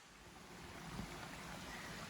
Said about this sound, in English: Camped beside this brook last night. I think it's Cascade Brook.